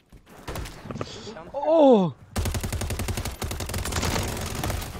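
Rapid automatic gunfire from a Call of Duty match, a dense rattling burst of shots that runs continuously after a short exclamation and a brief whining effect.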